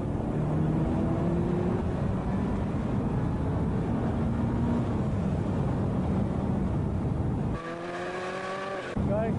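A 1990 Ferrari F40 accelerates hard down a straight, its engine a loud continuous roar with rising pitch sweeps, ending in a brief shift of tone as revs change near the end.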